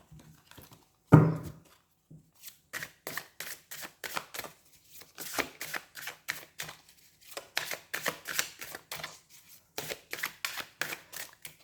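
A deck of tarot cards is shuffled close by in a run of quick, soft riffling clicks and taps, with one louder thump near the start and short pauses between bursts.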